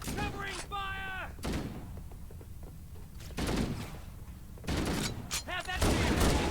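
Pistol gunfire in Halo: Combat Evolved Anniversary, several loud close shots scattered among other game effects, explosions and rising electronic tones, with voices briefly heard between bursts.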